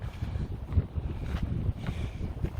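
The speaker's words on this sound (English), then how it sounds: "It's getting windy up here at the top." Steady wind on the mountain top of the Mount Pinos Trail rushes and buffets the microphone in low gusts, a continuous outdoor roar with no voices.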